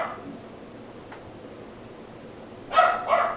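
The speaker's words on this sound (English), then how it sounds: "I apologize if you can hear my dog barking in the background." A pet dog barks twice in quick succession in the background, short sharp yaps that stand out briefly above a quiet room hum.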